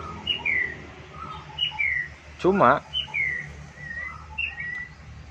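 A white-rumped shama (murai batu) sings repeated short clear whistled phrases at a steady pace, with a brief louder burst near the middle and one short spoken word over it.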